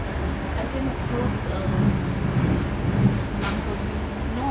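Busy ambience at a central rail station in Austria: a steady low rumble of trains and machinery with murmuring crowd voices and occasional hissing bursts.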